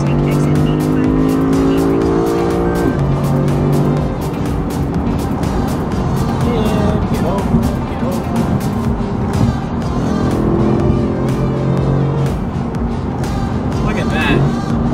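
Steady freeway road noise inside a Lexus RC F: a continuous loud tire and wind roar with a low engine drone, steady throughout, with a few brief tonal whines rising and falling.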